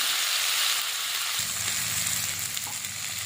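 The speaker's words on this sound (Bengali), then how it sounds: "দিয়ে মশলাটা ভালো করে কষিয়ে নেব।" Spice paste of ginger, cumin, chili, turmeric and tomato frying in a pan for cauliflower curry, a steady close hiss of sizzling oil that thickens into a louder bubbling fry partway through, with no talk.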